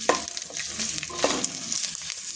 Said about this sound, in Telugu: లైట్గా ఒక్క నిమిషం ఫ్రై అయితే సరిపోతుంది నువ్వులు